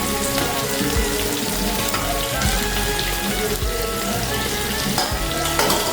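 Bottle gourd pieces cook in a hot pan with oil for a South Indian buttermilk curry, giving a loud, dense, crackling sizzle without pause. No one speaks.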